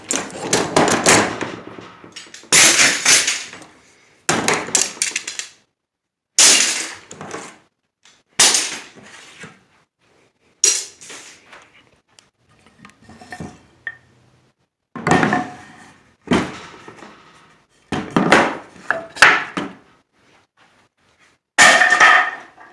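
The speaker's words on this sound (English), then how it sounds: "I'm gonna take these clamps. I don't typically do this, but I'm just going to throw them on the floor and get them off the table." Metal clamps from a guitar restoration are thrown one after another onto a workshop floor, making about a dozen loud, separate clangs and clattering bangs with short silent gaps between them.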